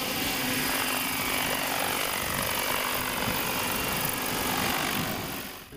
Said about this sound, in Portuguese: já se ouviu o ronco do drone